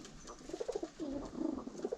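Several soft, low coos from pigeons close by in a pigeon loft with an aviary, repeating in short rounded phrases with brief pauses, over a quiet background.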